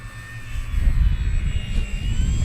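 A Durafly P-40N 1100mm RC model warplane flies overhead with a steady electric motor whine and propeller drone, loud and continuous with slight swells, outdoors in wind, no speech.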